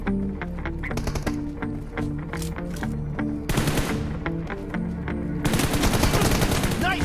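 Rapid bursts of M4 rifle fire in a team deathmatch video game, repeated volleys of sharp shots layered over game music and effects, loud and near throughout.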